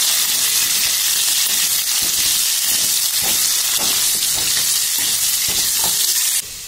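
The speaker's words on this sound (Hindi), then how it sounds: "तो काफी हद तक हमारी अरवी तल चुकी हैं" Taro root (arvi) pieces frying in oil in a pan, a steady close sizzle with bubbling and occasional stirring clinks, continuous and loud throughout with no talk.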